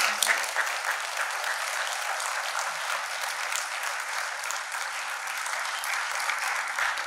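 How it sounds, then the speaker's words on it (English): A large crowd at a candidates forum applauds steadily for several seconds, a dense, even wash of clapping with no talking over it. "can we get a round of applause?"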